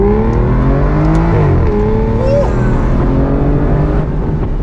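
Aston Martin Virage V12 engine revving hard toward redline, sustained loud rising and falling engine note with exhaust pops, heard from inside while driving.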